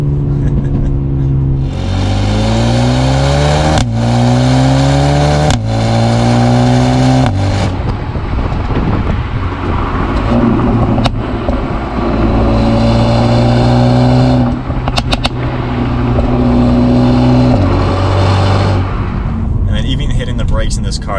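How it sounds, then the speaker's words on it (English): A 2020 Mercedes-AMG CLA 35's four-cylinder exhaust revs up repeatedly in rising sweeps and then holds a steady drone, loud and close, with talk audible at times. "And that exhaust, this is a 4-cylinder, and it sounds really good."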